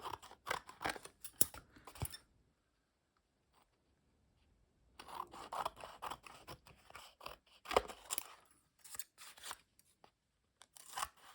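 Scissors snipping along the edges of a paper collage, a series of close, crisp cutting and crunching strokes in two bursts separated by a quiet pause.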